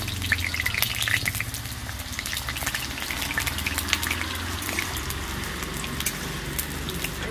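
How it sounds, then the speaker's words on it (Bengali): Large potato pieces frying in mustard oil in a pan give a steady, close sizzle and crackle with scattered spitting pops throughout. "আলুগুলোকে এবারে ভেজে নেব।"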